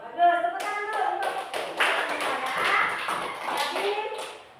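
A group of children in a classroom claps hands together, a burst of brisk, dense clapping that follows a short spoken voice and continues at even loudness.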